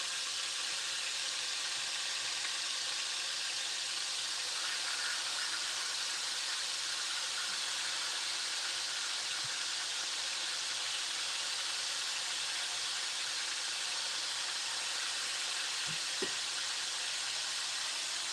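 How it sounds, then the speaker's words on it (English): Oxtail pieces browning in hot vegetable oil in a pan give a steady close sizzle and hiss with a few faint knocks near the end. "That's why I use this one because I actually want to brown the oxtail."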